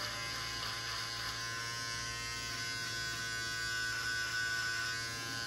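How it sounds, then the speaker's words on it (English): A Panasonic electric beard trimmer buzzes steadily and close as it cuts the ends of beard hair, a continuous even hum with no talking. "Here's my little Panasonic trimmer. Just gonna trim the ends off so it gets real small and greasy."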